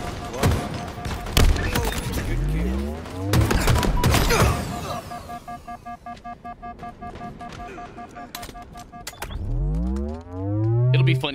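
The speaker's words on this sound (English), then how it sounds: "I'm getting fucking grenades spammed again" Grenade explosions in the Halo video game, several heavy booming blasts in quick succession early on, then a lull with tonal game effects before more loud bursts near the end.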